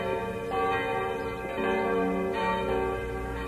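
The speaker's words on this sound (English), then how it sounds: "the bells of the quaint rustic churches begin to peal" Church bells of a quaint rustic church in a Swiss Alpine village peal on a Sunday morning. Several loud, ringing strikes overlap in a rich, sustained wash of tones with no voices.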